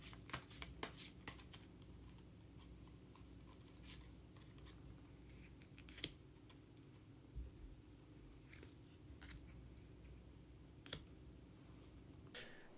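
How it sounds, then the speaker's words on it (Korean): Tarot cards shuffled and drawn by hand, a soft continuous riffling with scattered crisp clicks and taps, close and quiet, with no talking. "히든 카드를 한 장 더 뽑아보도록 하겠습니다"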